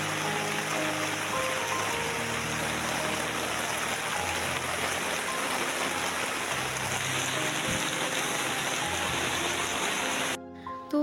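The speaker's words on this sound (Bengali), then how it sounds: "তো বাইরে তো প্রচুর বৃষ্টি হইতে আছে" Heavy rain pours steadily outside a home kitchen, a dense, continuous broadband hiss that holds constant for about ten seconds before cutting off abruptly near the end.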